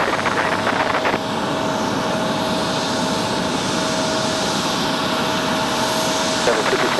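A Dash 8 turboprop departing Raleigh-Durham airport, a steady broad engine roar holding at a fairly loud level throughout, with a tonal whine running underneath and voices talking over it.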